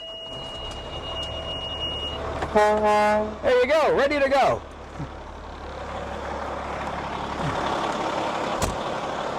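A fire tanker truck's engine idles with a steady, low diesel rumble, while a nearby voice speaks briefly over it and a hiss trails off afterward.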